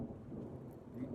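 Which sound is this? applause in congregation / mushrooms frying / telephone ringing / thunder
thunder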